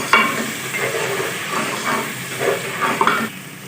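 Steady loud sizzling and hissing as a little water hits a hot pan of frying tadka for sarson ka saag, with occasional stirring scrapes, close up and continuous.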